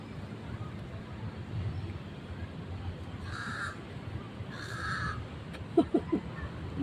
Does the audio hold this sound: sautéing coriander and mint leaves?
no